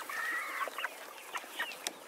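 Several meat broiler chickens in a chicken tractor cluck and squawk in quick, overlapping bursts, fairly close, with a few sharper calls rising above the busy flock.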